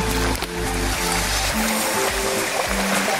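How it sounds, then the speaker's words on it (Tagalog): Steady rushing water of a flowing stream, continuous and fairly loud, with a low rumbling undertone throughout. "tingnan natin kung gaano kaganda tong sapa na to"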